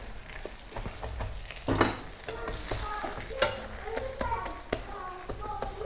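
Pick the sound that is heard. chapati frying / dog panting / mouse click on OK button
chapati frying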